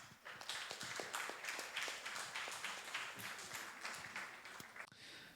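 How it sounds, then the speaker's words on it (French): Audience applause at an environmental awards ceremony in Mayotte, a steady dense patter of many hands clapping for several seconds before tapering off near the end. "On l'applaudit."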